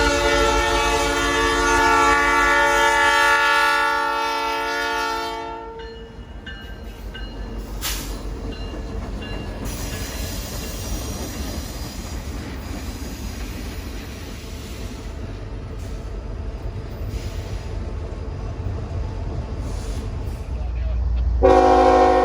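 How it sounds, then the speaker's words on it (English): A Norfolk Southern SD60E locomotive running as light power sounds a loud, sustained P3 chord horn for several seconds, then rumbles and rolls on under steady track noise before a second horn blast cuts in near the end. "a nice P3 horn coming from NS SD60E"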